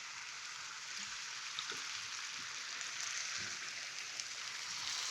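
Sausages and wine go into a pan of soft, caramelized fennel and olives, producing an even, close, crackling sizzle that holds steady throughout with a few faint bumps and no speech.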